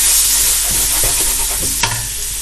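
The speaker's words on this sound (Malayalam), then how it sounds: "നമുക്ക് നല്ലോണം മിക്സ് ചെയ്ത് കൊടുക്കാം." Tomato puree being stirred into pork vindaloo masala in a hot pan, a steady close sizzle with a few scraping strokes of the spoon and one sharper clack near the end.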